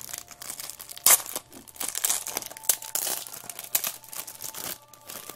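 Plastic packaging crinkles and tears as the back of an iPhone-style mouse pad from a mall shop is unwrapped, with irregular close crackles and a sharper rip near the start, no talking.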